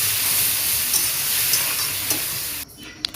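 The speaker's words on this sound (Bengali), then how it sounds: "তো সবজিগুলো আমি ভালো করে ভেজে নিচ্ছি।" Vegetables fry with a ground paste of cumin, coriander powder and onion, turmeric and salt in a pan, giving a steady close sizzle with a few soft stirring scrapes and a brief clatter near the end.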